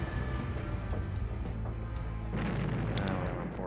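Artillery firing at an ork battle wagon in the Warhammer Epic 40,000 video game Final Liberation, a run of rapid heavy booming shots in steady rhythm, growing denser and louder toward the end.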